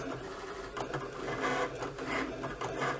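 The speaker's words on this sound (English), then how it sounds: "And Cricut takes over. So it's going to cut out This Queen Was Born in November." A Cricut machine cuts heat transfer vinyl lettering for a T-shirt, a soft mechanical whir with irregular buzzing strokes and faint clicks as the carriage moves, steady and close with no voices.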